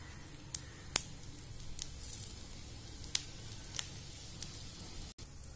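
About a teaspoon of cumin seeds in hot ghee, giving a quiet, faint background sizzle broken by a few sharp isolated pops and ticks, with no voices.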